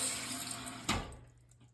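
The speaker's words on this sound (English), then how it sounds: "It's flushing. See how it's washing the sides again as it fills." A smart bidet toilet, an EPLO, gives a rushing flush of water that washes the bowl sides, ending in a brief surge. The sound then drops away into quieter refilling.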